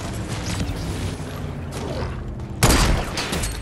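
Sniper gunfire in a video game: one sudden loud shot cracks out near the end over a constant background of in-game ambient noise.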